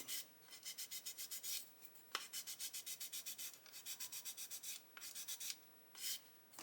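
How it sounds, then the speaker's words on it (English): Rhythmic rasping strokes of 400 grit sandpaper on a plastic model, close and alone, in quick bursts of back-and-forth rubbing broken by short pauses and a sharp tap or two. "Don't be scared of it, just get in there and sand it."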